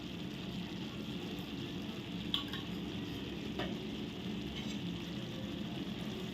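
A steady sizzle of field bean usal frying in a pan with spices, tamarind and goda masala, stirred with a few faint utensil scrapes over the constant crackle.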